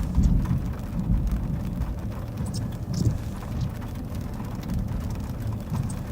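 A heavy thunderstorm in Concordia, Kansas, during a tornado outbreak, with dense steady rain drumming on surfaces and low rumbling thunder swelling beneath it, loud and continuous with no talk.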